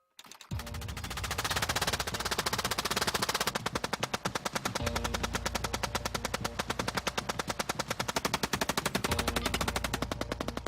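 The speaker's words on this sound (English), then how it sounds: "the Gatling gun could unleash 600" Rapid, continuous automatic gunfire from a hand-cranked Gatling gun, a dense rattling burst that runs nearly the whole time at steady loudness, its rhythm shifting slightly partway through, with no talk.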